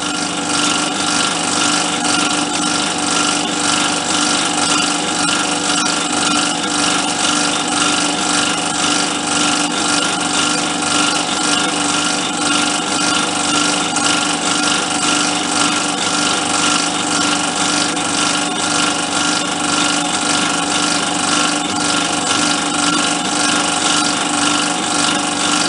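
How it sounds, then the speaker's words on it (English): A steady, loud machining noise with a continuous grinding, scraping hum as brass is drilled on a home-made lathe without oil, with no talking. "I'm drilling without oil for brass"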